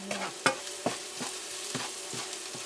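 Garlic sautéing in a pan with a steady soft sizzle, broken by a run of regular scraping stir strokes about every half second. The sound is close and fairly quiet, and no one speaks.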